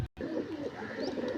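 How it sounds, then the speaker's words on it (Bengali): A female Punjabi pigeon coos close by in a low, warbling, throaty burble that runs throughout the short moment. "এটা মাদা পায়রা।"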